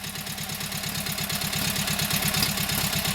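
A Kohler KT17 twin-cylinder engine idling steadily on its first start, governor holding the throttle, with an even, close, continuous low-pitched pulsing chug and no talk over it.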